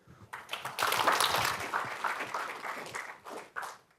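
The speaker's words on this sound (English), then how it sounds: "Please give Professor Yarp a big applause." An audience breaks into applause after a speaker introduction at an engineering conference session, a dense burst of many hands clapping that swells, holds for a couple of seconds and then fades out raggedly.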